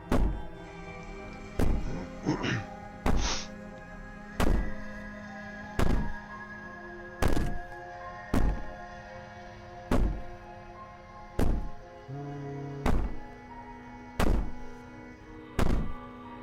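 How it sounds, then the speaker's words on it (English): Banging on a door in the video game Slay the Princess: about a dozen heavy, hollow thuds land at a steady, unhurried pace over a low sustained musical drone. "Bang on the door all you want."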